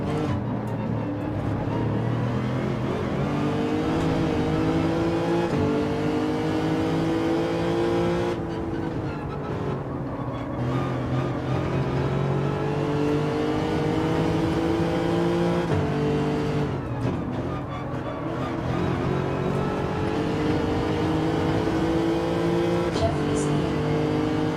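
A race car in Gran Turismo 7 accelerates hard, pulling away from a Supra, with a steady loud engine drone and climbing revs through gear changes while someone talks over it.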